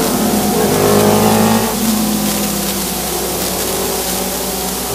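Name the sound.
race cars during a short track qualifier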